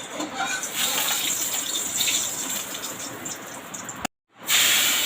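Oil hissing and sizzling in a hot cooking pan, a steady close spitting hiss that cuts out briefly and then resumes.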